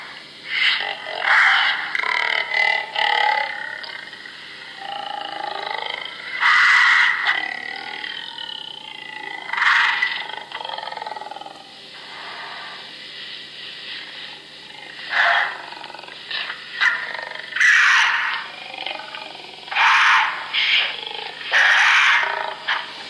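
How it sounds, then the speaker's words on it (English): A deep human voice slowed down on a Nexus 5X phone recording, drawn into creepy, growling roars, several drawn-out bursts with short pauses between them, close and fairly loud. "of course that's my voice slowed down"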